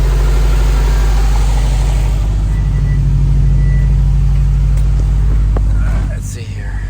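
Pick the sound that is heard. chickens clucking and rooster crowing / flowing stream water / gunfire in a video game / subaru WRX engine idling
subaru WRX engine idling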